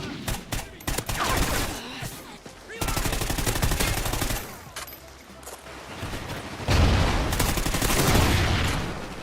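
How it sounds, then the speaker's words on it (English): Honey Badger suppressed rifle from Call of Duty: Ghosts firing in several rapid bursts, a soft pattering automatic chatter that is loud and close, with brief pauses between strings of shots and no voices. "The Honey Badger had this sweet pitter-patter sound effect"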